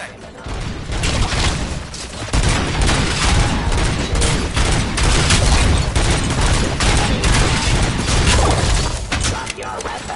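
Dense, loud gunfire from a police-themed video game fills the whole stretch, with overlapping shots and crashes in a near-continuous barrage. A short quieter gap comes early on, and there is no clear speech.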